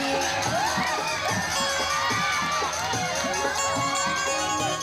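A village crowd cheers and shouts over loud rhythmic music, with children's cries and lively voices mixed into the dense, continuous din.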